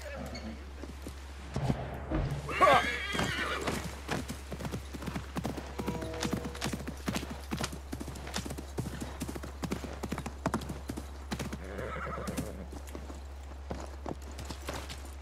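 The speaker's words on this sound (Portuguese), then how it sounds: "Vou pegar esse cavalo aqui." Horse hooves clip-clopping at a steady walking rhythm in Assassin's Creed Mirage, with a brief neigh early on, close and moderately loud, while someone speaks at the start.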